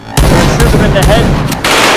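Several sharp gunshots in the VR shooting range game Hot Dogs, Horseshoes & Hand Grenades, four loud cracks spaced unevenly over a couple of seconds, each followed by a short ringing tail.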